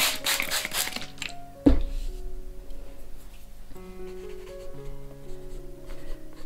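A pencil sketches on a big canvas with quick scratchy strokes and one solid thunk of contact, close, over soft background music with sustained tones.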